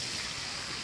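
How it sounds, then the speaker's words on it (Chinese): Water rushes into a hot wok holding oil and chili powder, a brief, steady, broad gush close up with no talk. "加水"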